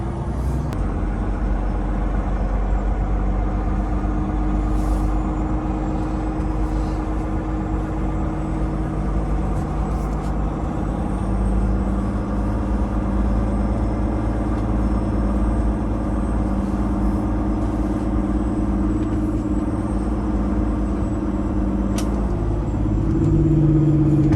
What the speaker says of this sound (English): we're riding around a brand new shiny Peterbilt